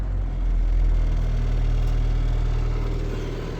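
A Holden Rodeo ute left abandoned for eight years idles after being revived, a steady low engine drone with loose belts, close and even throughout with no talk.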